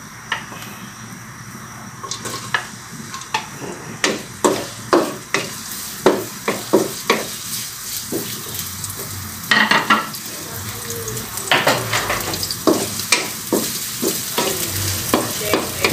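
Ginger, garlic and onion sizzle in a pan for ginataang papaya, with repeated sharp scrapes and clicks of a spatula stirring against the pan over a steady frying hiss, loud and close.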